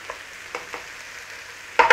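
Onion and garlic sauté in a pan with a soft sizzle, broken by a few faint stirring scrapes and a louder burst of frying at the very end.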